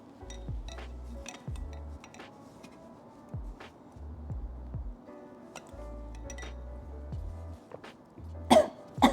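Someone coughing after drinking a nut milk juice: several short, low, throaty coughs and throat clears spaced through the moment, with faint clinks of glassware nearby.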